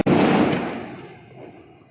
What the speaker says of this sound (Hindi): लोग सेलिब्रेट कर रहे हैं पटाखों से।